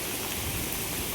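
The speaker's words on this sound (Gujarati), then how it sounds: "વરસાદ ચાલુ થઈ ગયો છે" Monsoon rain pours steadily by the Kolak river at Udwada, a dense, even wash of falling water, close and unbroken, with no voices.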